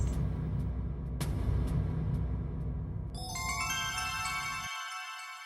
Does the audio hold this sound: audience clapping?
no